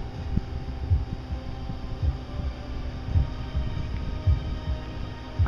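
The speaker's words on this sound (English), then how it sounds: "I can hear its heart beating." A giant's heartbeat in a video game throbs as a low, steady pulse of soft thumps over a constant hum, repeating evenly throughout with no talking.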